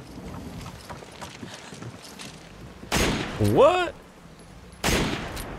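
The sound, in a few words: sniper rifle shots in Resident Evil 5 video game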